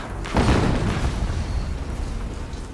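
A deep, booming explosion in the video game Horizon Zero Dawn Remastered bursts loudly at once, then leaves a long rumbling tail that slowly fades.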